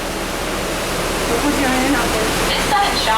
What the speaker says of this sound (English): We rigged up a series of water nozzles just above your tram.